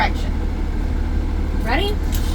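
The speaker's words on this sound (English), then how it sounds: "Put your bus back in neutral." A school bus engine idles in neutral with a steady low hum close by, while people talk briefly over it.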